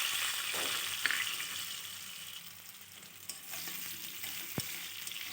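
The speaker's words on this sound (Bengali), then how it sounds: "ওই তেলে আমি সেদ্ধ করে রাখা কাঁচা কলাটাও আমি একটু ভেজে নেব" Boiled green banana frying in hot oil in a home kitchen, a steady close sizzle with a few light clicks and stirring scrapes from a utensil, no voices.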